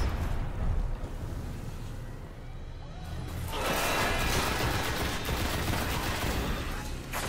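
Gunfire in the video game Destiny as the player shoots trip mines, with loud, rapid sustained bursts and blasts that crackle and roar, building to a dense continuous volley.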